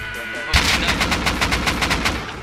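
Gunfire in the video game Rust cracks out as a loud, rapid automatic burst of evenly spaced shots, close and continuous after a brief quieter lead-in.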